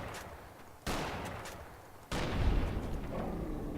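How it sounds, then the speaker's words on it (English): Gunfire aimed at a robot in Fallout New Vegas, two sharp broadband blasts landing about a second apart over a steady noisy backdrop, with no talk. "Stop shooting my robot"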